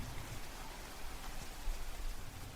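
Rain falling against a long glass window on the 25th floor of a business park, a soft continuous patter of drops, steady and fairly quiet, with no voices.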